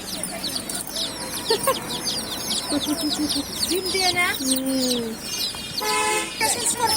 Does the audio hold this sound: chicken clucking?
yes